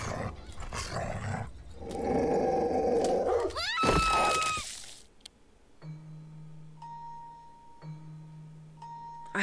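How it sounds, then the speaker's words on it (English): A dog growls in the Mongolian video game Fragile, a low rumbling snarl in the first seconds, followed by chimes and a sustained tonal game drone. No one speaks. "I have to distract that dog somehow"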